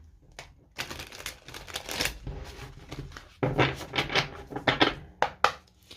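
Tarot cards being shuffled nearby, with bursts of rapid riffling clicks and soft flutters that come in uneven waves, with no voices.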